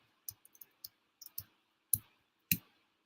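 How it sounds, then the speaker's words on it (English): Sparse, quiet clicks of keys on a computer keyboard, a few light taps then two louder strokes, close by with no talking. "Let me just type it in."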